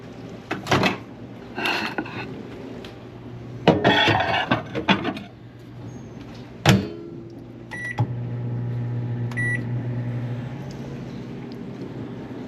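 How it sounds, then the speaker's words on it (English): A microwave oven runs while reheating lasagna, with a steady low hum broken by clicks, a door clunk and a couple of short beeps, and no talking. "We're going to give it a minute and a half in the microwave"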